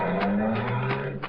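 A getaway car speeds off from the end of a gateway with its tyres skidding, a brief engine rush with squealing bursts in a radio drama scene.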